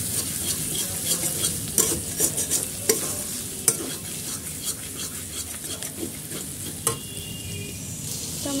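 Chopped tomato goes into spices frying in a pan, giving a steady sizzle with intermittent scraping strokes of a spoon stirring the mixture, close and continuous.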